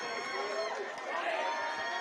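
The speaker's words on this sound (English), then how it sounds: "And their crowd is getting excited." A crowd cheering and clamoring in the stands at a boys high school lacrosse game, Farmingdale versus Port Washington, a steady roar from some distance with scattered shouts throughout.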